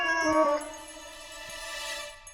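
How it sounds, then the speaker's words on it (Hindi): A cat being coaxed to drink milk in a Tenali Rama TV episode gives one close, drawn-out meow that fades into quiet room sound. "ये बिल्ली दूध पिएगी।"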